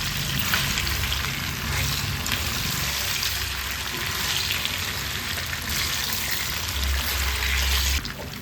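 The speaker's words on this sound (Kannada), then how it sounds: "ನಿಧಾನ ಉರಿಯಲ್ಲಿ ಚೆನ್ನಾಗಿ ಮಿಕ್ಸ್ ಮಾಡ್ಕೊಳ್ತಾ ಫ್ರೈ ಮಾಡ್ಕೊಳ್ಳೋಣ." Potatoes fry in oil over a low flame for a crispy Indian-style potato fry, giving a steady, close sizzle with occasional scraping from stirring and no talk.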